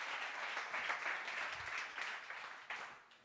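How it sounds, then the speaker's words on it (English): Audience applause at a digital tech summit, a steady wash of many hands clapping that holds evenly and then tapers off toward the end. "Give yourself a warm applause, man"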